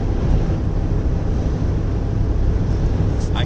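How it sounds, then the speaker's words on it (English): A car crossing a coastal bridge on the north Oregon–Washington coast is buffeted by a gust of wind, heard as a loud, dense roar and rumble that stays constant for a few seconds. "We're going over this bridge and we just got nailed by wind."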